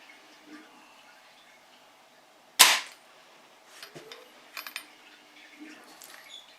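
A homemade slingshot trigger fires once with a single sharp, loud crack in otherwise quiet surroundings, followed by a few faint clicks and small rattles.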